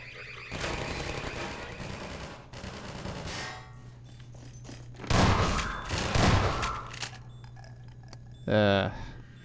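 Automated turrets in Half-Life 2 let off rapid bursts of gunfire amid a big battle, crackling volleys coming in clustered spurts over a steady low hum, with people talking faintly in between.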